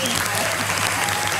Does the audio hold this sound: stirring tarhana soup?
no